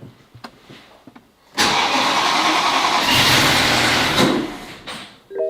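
A BMW M3 engine, freshly rebuilt after crash damage, cranks and fires with a loud roar, holds a rough, throaty idle for a few seconds, then cuts out abruptly; faint clicks precede the start.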